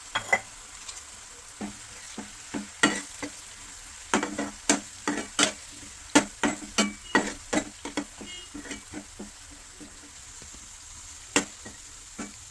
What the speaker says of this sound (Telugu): కొంచెం అది ఫ్రై అవ్వనివ్వండి